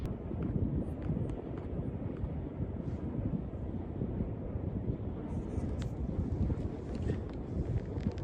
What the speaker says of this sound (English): Wind should keep us cool for a while.